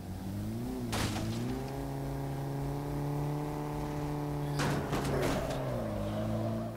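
Car drifting in the Dead Rising 3 video game: a steady engine hum whose pitch slides up and down through two sweeping drifts, with bursts of tire and skid noise around each slide. No voices.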